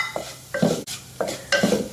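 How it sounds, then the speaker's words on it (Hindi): Broken wheat vermicelli is sautéed in a pan until brown, heard as a few distinct stirring scrapes with a soft sizzle underneath, close and intermittent with no voices. "इसे थोड़ा सा हाथों से तोड़ लेंगे और इसको ब्राउन कलर की सौते कर लेनी है।"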